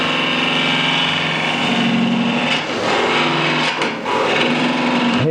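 Woodturning tool cutting a spinning bowl of polyurethane and timber on a lathe, a loud continuous gritty cutting and rasping over a motor drone, with brief dips and scratchy bursts as the tool catches, no voices.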